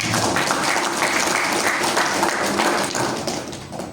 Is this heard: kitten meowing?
no